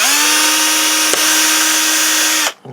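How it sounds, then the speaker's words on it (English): A power drill spins up and whines steadily at high speed while boring a larger hole, loud and close, with a brief dip midway before it abruptly stops and a small clatter follows. "So I can actually drill a larger hole"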